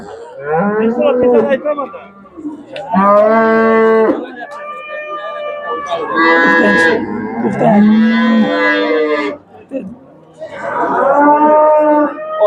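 Cows moo repeatedly at a busy livestock market in Shahrisabz, long drawn-out calls coming in several close, loud bursts one after another with brief gaps between.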